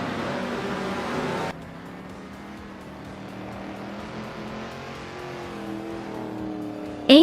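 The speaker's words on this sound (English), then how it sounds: "Dale's driving a 1967 Mercury Cougar, known for its sleek design and smooth handling" A 1967 Mercury Cougar race car drives steadily in a vintage race, its engine a sustained, moderately loud drone with a sharp burst of noise at the start and a brief spike at the end; no talk.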